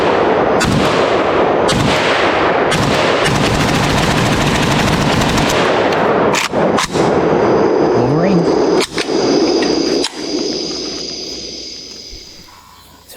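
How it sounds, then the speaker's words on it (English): A Romanian SAR-1 AK rifle fired at dusk without a flash hider, rapid loud shots in bursts with brief gaps, then a few final separated shots and fading echo. "Last mag with the SAR-1 at dark. No flash hider."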